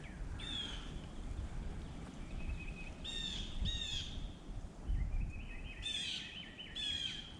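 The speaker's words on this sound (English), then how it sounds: "Listening to those birds." Birds chirp and call in short bursts outdoors at a campground near Muskogee, Oklahoma, several trills spaced apart over a soft, steady background hum.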